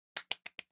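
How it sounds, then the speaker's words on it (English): Four quick, crisp hand claps in an even rhythm, close and sharp, with silence between them. "You're clapping."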